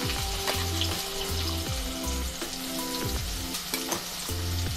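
Finely chopped onion sautés in a pan with cinnamon sticks and bay leaves, making a loud, steady sizzle with rhythmic stirring scrapes over music playing in the background.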